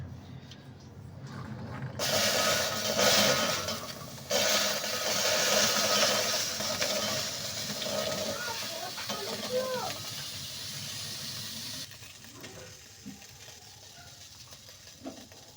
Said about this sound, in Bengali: এবার মটরশুঁটিগুলোকে এর মধ্যে দিয়ে দেবো